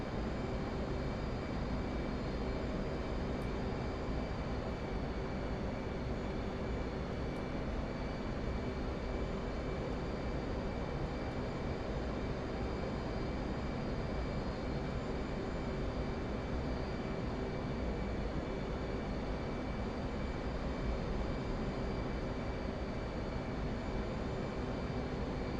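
Steady, unbroken jet roar of an F/A-18C approaching a carrier landing in the DCS flight simulator, a constant broadband engine drone with no distinct touchdown or change in intensity.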